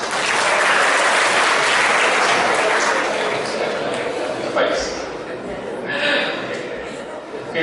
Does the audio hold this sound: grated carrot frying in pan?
no